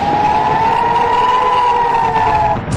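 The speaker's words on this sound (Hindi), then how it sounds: "सायरन की आवाज के बीच यहाँ दनादन मिसाइलें दागी जा रही हैं।" Air raid siren sounding during missile launches in the Israel–Palestinian militant fighting: a loud, steady wailing tone held across the whole clip, with no one speaking.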